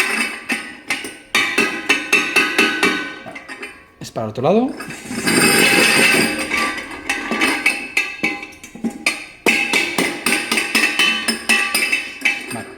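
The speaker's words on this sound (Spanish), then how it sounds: "Utilizo un martillo de goma simplemente por no dañar la barra." Rubber mallet knocking on the spear bar of a Type S beer keg, a series of sharp rapid metallic taps in bursts, close and loud, with someone speaking Spanish briefly in between.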